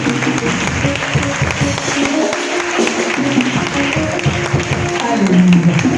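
Church congregation applauding during a Sunday worship service, sustained loud clapping from many people mixed with voices and cheering throughout.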